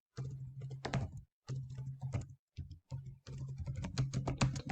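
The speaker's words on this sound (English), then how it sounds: "Sorry for my typing." Keys clatter on a computer keyboard in quick, close runs of clicks, broken by short pauses.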